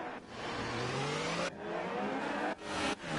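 F1 race cars on a formation lap in the F1 2018 game, a close engine revving through rising gear pitches with abrupt cuts at each shift, loud and alone.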